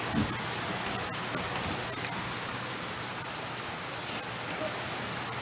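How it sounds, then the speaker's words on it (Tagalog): Dense, constant roar of heavy rain pouring down on surfaces, loud and unbroken from start to finish. "Lakas kasi ng ulan, oh."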